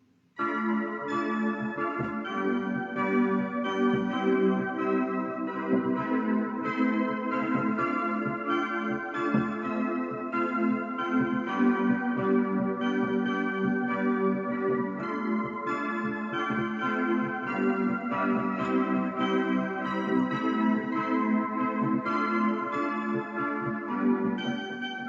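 Whirly space-age synth patch played on a Yamaha Tyros keyboard with LFO modulation, a dense sustained chordal tone with a bell-like shimmer that holds steady and loud, alone, throughout.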